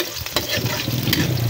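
Onions sautéing in a pan, a close, steady sizzle with scraping stir strokes throughout, no voices.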